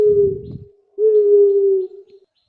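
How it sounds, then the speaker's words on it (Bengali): An owl hoots twice: two clear, steady, sustained low tones close up, the first overlapping a brief burst of low rumble, then silence. "প্যাঁচার ডাককে ইংলিশে বলে হুট।"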